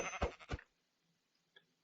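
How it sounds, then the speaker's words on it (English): Sheep bleat in Hungry World, a Minecraft-like web3 video game, a couple of quick bleats at the start followed by near silence and a faint blip. "now we've killed a few more sheep"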